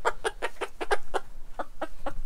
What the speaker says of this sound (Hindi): इसमें एक मुर्गा है हमारा भी, ये वाला